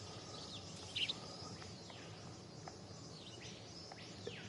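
Jungle ambience from the video game Metal Gear Solid 3 Snake Eater, with birds calling over a steady insect-like drone, including a sharp chirp near the start and occasional swooping whistles at moderate distance.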